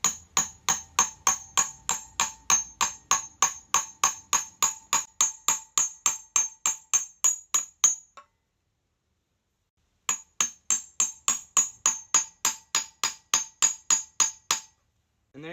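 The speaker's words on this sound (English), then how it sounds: "We're just gonna hit it in, make sure it goes in pretty straight." A new wheel bearing is being driven into a scooter wheel hub with a hammer striking a socket. The blows are sharp and ringing at a fast, even pace, pause briefly, then the rapid tapping resumes.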